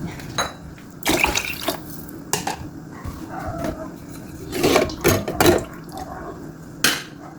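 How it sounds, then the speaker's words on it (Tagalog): Five cups of water poured into a pot for sopas, a splashing, running stream with clinks of cup against pot in several bursts, close in a kitchen. "5 cups ang ilalagay ko guys na tubig."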